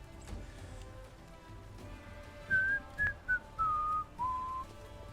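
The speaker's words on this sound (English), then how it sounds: "Probably shouldn't whistle into the mic." A person whistles a short, wavering tune close into a microphone during a Pathfinder gaming session, five clear notes rising and falling over faint background hiss.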